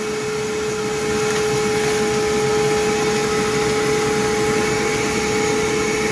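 An attic insulation blowing machine roars steadily as it pushes loose insulation through a hose, a loud constant whooshing drone with a fixed whine on top and no voices.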